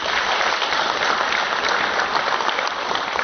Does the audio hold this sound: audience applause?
yes